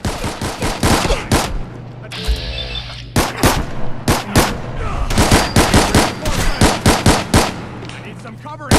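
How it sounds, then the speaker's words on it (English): Rapid bursts of automatic gunfire and single shots crack through a Fallout 4 battle, loud and close, in dense rhythmic volleys with short pauses, while a voice talks briefly among the shots. "I need some covering fire over here"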